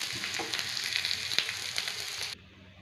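Ragi adai cooks on a pan over low heat with a steady, close sizzle and faint crackles. The sizzle cuts off sharply near the end.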